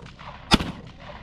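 A single loud gunshot rings out at a trap shooting competition in Taşköprü, Turkey, a sharp blast followed by a short echoing tail against quiet outdoor background.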